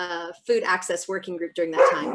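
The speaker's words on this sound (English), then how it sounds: "I apologize for the dogs." Dogs bark at home, a few sharp yips close by, heard under someone speaking steadily over them.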